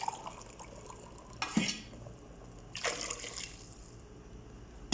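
Boiling water is poured into rice for a Kozhikode-style Malabar biryani and stirred in, giving two short splashing, sloshing bursts over a low background hiss, with no talking.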